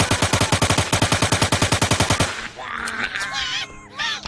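Rapid automatic gunfire in a zombie shooter video game: a steady, loud stream of about twenty evenly spaced shots for two seconds, then the shooting stops and softer in-game effects and chatter follow.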